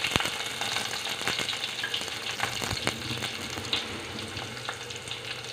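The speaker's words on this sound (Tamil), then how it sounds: "காஞ்ச உடனே கருவேப்பிலை, கடுகு, பெருஞ்சீரகம் மட்டும் போட்டிருக்கிறேன் பொரிஞ்சிட்டு." Curry leaves, mustard seeds and fennel seeds sputter in hot oil in a home kitchen, a steady sizzle broken by sharp crackling pops scattered throughout, close and moderately loud with no voices.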